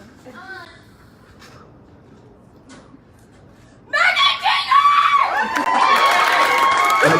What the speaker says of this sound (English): we'll give her a big round of applause